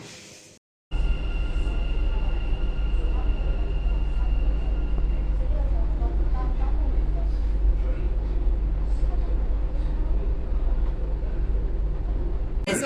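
A metro train carriage in motion gives a steady, loud low rumble with a continuous whirring hum. It begins after a brief quieter moment and then holds constant.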